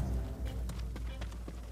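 Horse hooves clip-clopping in the Ghost of Tsushima video game, a steady run of light rhythmic hoof taps over a constant low background hum, close and moderately loud.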